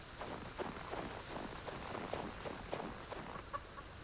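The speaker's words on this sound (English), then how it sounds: "I put 2 chickens in the coop" A pair of chickens clucking in a coop in the survival game Subsistence, soft irregular clucks and scratchy movement, fairly faint, with no talk.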